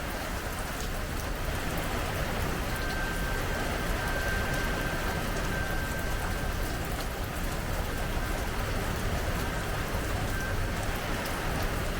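Heavy rain from Hurricane Debby pours steadily around a screened porch, a dense, even hiss of falling drops that continues without a break and with no voices.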